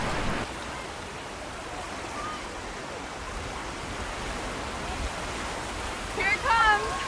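Ocean surf at Carcavelos Beach near Lisbon rolls in a steady broadband wash, with a louder surge of breaking waves near the end and voices shouting faintly over it.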